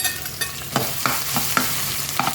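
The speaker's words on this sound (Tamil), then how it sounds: "பூண்டு நல்லா வறுபடட்டும்" Crushed garlic frying in sesame oil in a pan, a close, steady sizzle punctuated by repeated spatula strokes scraping and tapping against the metal at an uneven rhythm.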